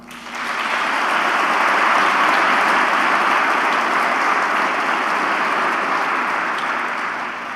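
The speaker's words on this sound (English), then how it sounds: "please join me in a warm round of applause for our Mayor and our Councillors-elect" A civic gathering breaks into a warm round of applause for a newly elected mayor and councillors, swelling quickly into broad, even clapping that stays loud and steady for several seconds before easing slightly.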